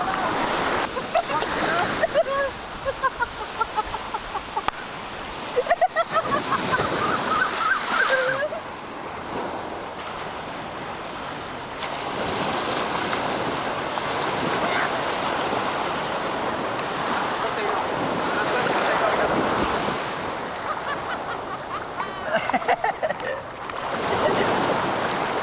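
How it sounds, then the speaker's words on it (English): Ocean waves breaking around a surfer in the Maldives, a continuous loud wash of surf and splashing water with wind, rising and falling in bursts while someone talks over it. "Atif, up and riding his very first wave, Ubet appreciates."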